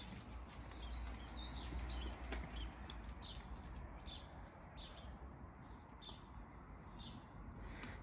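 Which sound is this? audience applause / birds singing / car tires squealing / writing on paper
birds singing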